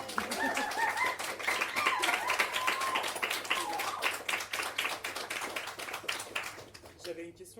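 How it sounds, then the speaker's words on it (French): A crowd claps steadily and densely, loud and near, at a talk on dance and the burlesque, then the applause fades at the end while a voice begins speaking. "J'ai envie d'applaudir un peu"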